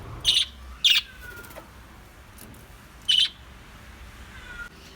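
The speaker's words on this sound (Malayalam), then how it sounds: "തീറ്റ കഴിഞ്ഞാൽ ഇവർ ഇതേ രീതിയിൽ ബഹളം വെക്കാൻ തുടങ്ങും" Caged lovebirds, budgies and finches after feeding: three sharp, loud chirp bursts stand out near the start and middle, with faint twittering in between against a quiet background.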